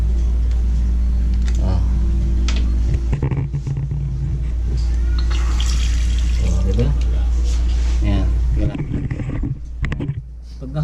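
Tap water running through a faucet-mounted water purifier, a steady splashing rush over low rumble that fades near the end, with people talking intermittently over it.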